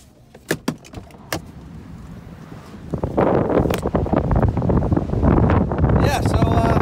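Strong wind outdoors by the ocean on a stormy day, a loud rushing buffet across the microphone after a car door and keys clatter, with a voice speaking briefly.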